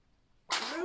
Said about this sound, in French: je vous l'avais dit, il allait faire atchoum